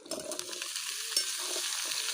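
Oil crackles and sizzles steadily in a pan while something is stirred, with faint scraping underneath, close and moderately quiet.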